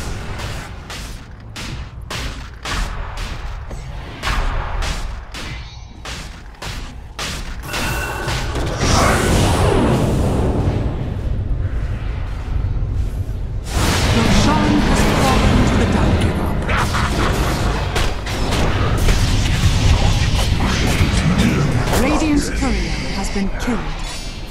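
Dota 2 battle audio as a tower comes under attack, with dense, loud clashing impacts, whooshes and rumbling booms throughout, growing busier halfway through and mixed with game voice lines.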